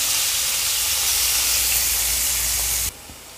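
Onion sautéing in a pan, lightly salted, for a bitter gourd fry: a steady, loud hiss of sizzling that runs for about three seconds, then drops away abruptly to near quiet.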